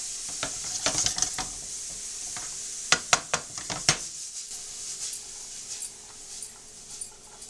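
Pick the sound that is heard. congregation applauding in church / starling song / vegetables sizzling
vegetables sizzling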